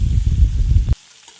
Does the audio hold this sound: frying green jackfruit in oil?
yes